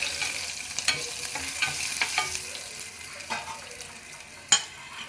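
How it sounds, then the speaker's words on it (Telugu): A tempering of spices fries in hot oil with a steady bright sizzle, broken by frequent clicks and taps of a spoon stirring the pan, up close with no voices. "పోపు మంచి వేగాలన్నమాట"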